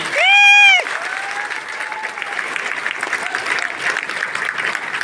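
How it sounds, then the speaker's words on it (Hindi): Loud applause from an audience at a Vestige marketing event, honouring a speaker's family; a brief loud tonal burst opens it, then steady dense clapping continues with faint voices underneath. "मैं अपने पूरी फैमिली के लिए चाहूंगा जोरदार ताली होनी चाहिए"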